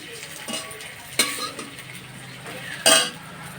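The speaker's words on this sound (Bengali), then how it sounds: "এখন আমি উল্টে দেবো, এই বড়াগুলো উল্টে দেবো" Gandha pata leaf fritters fry in a pan with a soft sizzle while a utensil scrapes and clinks against the metal in a few sharp bursts as they are turned.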